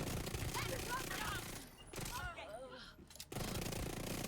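SMG gunfire in The Division 2, fired as rapid sustained bursts with short breaks in between, loud and close against a busy game background.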